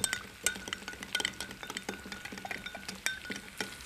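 A spoon clinks and scrapes in a pan while a vegetarian moussaka mixture of lentils and ground cinnamon is stirred, giving repeated light metallic taps at an uneven rhythm, close and moderately loud with no talking.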